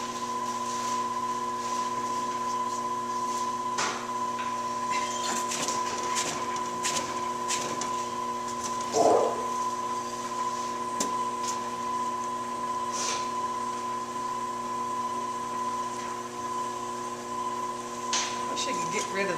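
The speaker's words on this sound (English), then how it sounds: "I wish I could get rid of the whine on that wheel. I can't figure out why it's whining." A spinning pottery wheel gives off a steady, high motor whine with layered tones that hold throughout, while brief knocks and rubbing sounds of work come and go over it.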